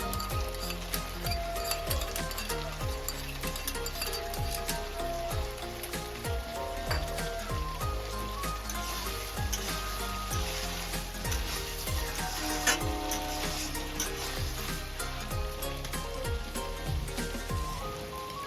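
Pointed gourd frying in oil, a dense crackling sizzle with rapid popping like rain on a surface, steady and close throughout, without voices.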